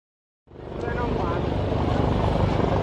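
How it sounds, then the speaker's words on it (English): A Ghana Air Force Z9 helicopter starts up after a brief silence, its engine and rotor roar rising into a loud, steady, close drone with a rhythmic beating low end. "The helicopter you see today is one of the helicopters of the Ghana Air Force. It is called the Z9."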